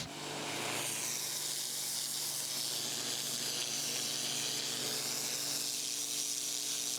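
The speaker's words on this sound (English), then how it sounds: "I'm actually going to use the turbo nozzle to remove all the weeds." A pressure washer's turbo nozzle blasts weeds from a paved surface in a loud, continuous hissing spray, steady and close throughout.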